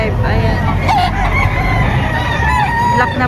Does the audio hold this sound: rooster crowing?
yes